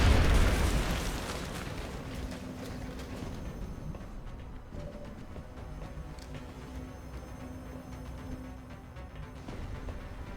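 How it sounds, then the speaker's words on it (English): In the video game XCOM Long War, a rocket explodes with a loud boom at the start. It fades into a low rumble, then quieter in-game ambience, with no voices. "Firing rocket."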